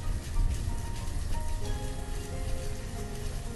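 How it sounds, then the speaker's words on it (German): Steady rain falls in the city-building game Banished, a dense, continuous hiss of drops on surfaces with faint musical tones layered underneath, holding even throughout with no voices. "24 Grad und natürlich wieder Regen."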